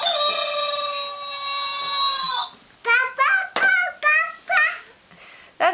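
A voice imitates a chicken: a long drawn crowing call followed by a run of short, rhythmic clucking bursts.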